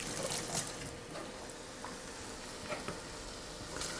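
Beef mince frying in a pan for a paleo bolognese, a steady soft sizzle with faint crackles and occasional stirring scrapes, close and moderately quiet, with no talking.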